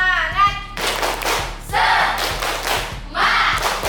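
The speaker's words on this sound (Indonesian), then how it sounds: "Tepuk semangat!" Students in a classroom at SMAN 3 Bengkulu Selatan perform a spirit clap, sharp unison bursts of claps in rhythmic groups separated by brief pauses, loud and close, with a short vocal shout at the start.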